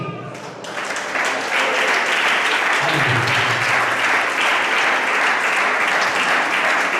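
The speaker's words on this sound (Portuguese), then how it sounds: "Palmas assim." Loud, dense applause fills a church congress hall, rising after a short quiet start and then holding steady as a crowd claps continuously, with a few voices underneath.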